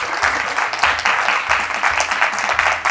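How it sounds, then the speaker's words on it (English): Dense applause fills a room from a seated audience, a continuous roar of many clapping hands at strong, even volume throughout. "give the left-hand side of the room a massive round of applause for just coming today."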